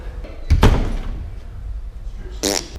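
Knuckles knock twice on the rattly left rear door panel of a car, two dull, close thumps with a loose rattle, over low background noise.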